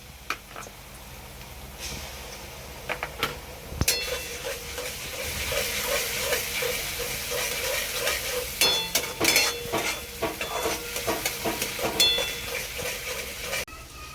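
Browned onion masala frying as ginger-garlic paste is added for a jawla (dried shrimp) curry, a soft continuous sizzle with scraping spoon strokes and a louder crackling burst midway, close and moderate.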